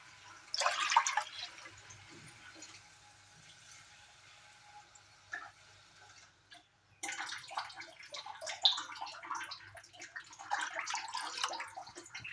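Water poured into a cooking pot while preparing ragi papad, a soft splashing pour in two bursts separated by a quiet pause, faint and close with no talking.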